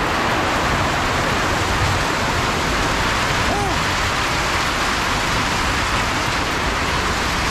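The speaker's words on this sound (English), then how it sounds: "it's raining heavily here." Heavy rain pouring steadily in Uganda near the Malaba border, a dense, loud, even roar of water with no breaks, close by and constant.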